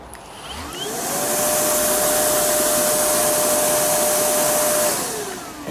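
A Makita 40V cordless vacuum switches on automatically, its motor whining up over about a second into a loud, steady roaring hum with a high airflow hiss, then spinning down near the end.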